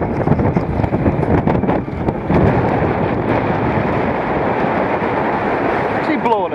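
Strong gusty wind buffeting the microphone at a Galloway campsite in May, a continuous loud roar with rumbling gusts throughout and no talk.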